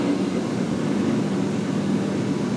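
A hay mower's engine runs during field work on Maryland's Eastern Shore, giving a steady, loud, low droning rumble that holds level throughout with no clear climb in pitch.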